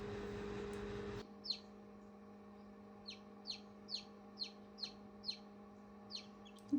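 Newly hatched chicks from fertilised eggs hatched at home call in a quiet room, giving about eight short, high, evenly spaced peeps after a brief burst of noise at the start.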